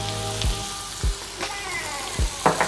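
Chopped garlic sizzles in hot butter in a pan for a Dilkhush chicken and chilli bell pepper prawns dish, a steady close frying hiss broken by a few soft stirring knocks.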